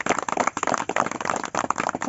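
An audience gives a round of applause, a dense steady patter of many hands clapping together at moderate loudness, with no pauses from start to end.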